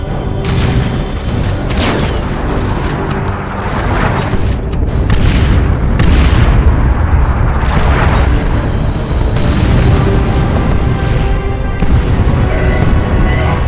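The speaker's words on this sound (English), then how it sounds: "Launch barrage!" Artillery barrage in the Warhammer 40,000: Chaos Rising strategy game, a loud, continuous run of booming explosions and blasts that rolls on for the whole stretch, with dense rumbling impacts layered over one another.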